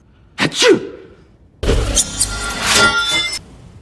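A sneeze from a film character who releases nanorobots with it, a sharp breathy burst near the start, followed by a louder, broad rush of noise lasting a couple of seconds.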